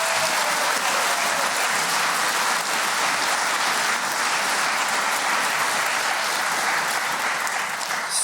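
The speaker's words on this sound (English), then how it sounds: "a round of applause." A radio theatre audience at a quiz show gives a sustained round of applause, a loud, dense wall of clapping that carries on evenly for several seconds without talk.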